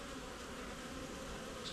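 Honey bees swarm around an open hive box during an Api-Bioxal trickle treatment, a steady, faint buzzing drone that hangs in the air without pause or voices.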